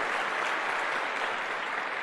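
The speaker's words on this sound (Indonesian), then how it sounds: "ya silakan kalau mau tepuk tangan." An audience applauds, a dense, even wash of clapping that holds steady and fairly loud for the brief stretch.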